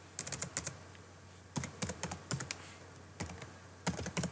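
Fingers type on a computer keyboard in quick bursts of crisp clicks separated by short pauses, close and fairly quiet while a C# project is named in a development environment.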